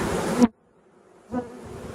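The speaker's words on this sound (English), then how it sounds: "Bees everywhere." A dense buzz and hum of honeybees around an open hive fills the air, cutting out abruptly into near silence before swelling back to a steady drone.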